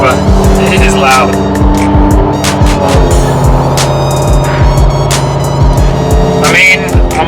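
A BMW M6 E63 with its S85 V10 engine running loud and steady at about 2000 RPM, a dense continuous drone close by with sharp repeated clicks over it.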